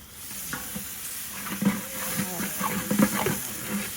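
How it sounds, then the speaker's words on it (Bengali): Garlic hitting hot oil in a pan and stirred, giving a steady sizzle with clattering scrapes and spoon taps that grow busier toward the end, with faint talk in the background. "রসুন দিও রসুন দিচ্ছি"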